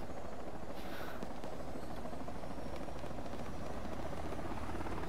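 Helicopter rotor and engine drone in the Arma 3 video game during a zombie evacuation, a steady, moderately loud whirring that continues throughout without talk.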